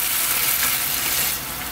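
Hanwoo beef broth for Korean rice cake soup bubbling as it simmers down, a steady close hiss and fizz that eases slightly toward the end.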